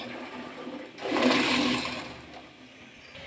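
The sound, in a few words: draining water from boiled fresh pigeon peas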